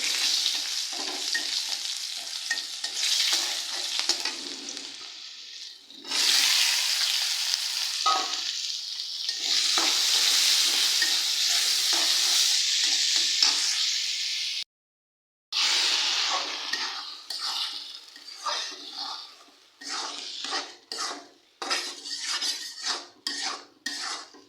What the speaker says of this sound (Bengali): আর এখানে আমি দিয়ে দেবো এখন শুকনা মরিচ কাইটা রাখছিলাম